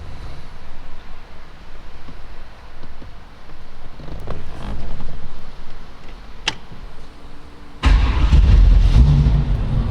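A 1940 Ford Deluxe Coupe with a 350 Ram-Jet engine idles steadily with no throttle, a low continuous rumble, with a louder, fuller surge of engine sound near the end.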